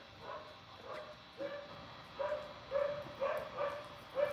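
A neighbourhood dog barks repeatedly outdoors, a series of sharp yapping barks with whimpery tones, moderately near and coming in irregular bursts with no talk over them.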